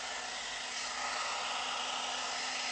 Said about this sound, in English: I'm going to start off on medium heat because I always just like to see if I can dry my hair on medium heat